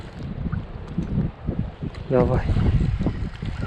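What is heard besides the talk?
strong wind on a lake shore while fishing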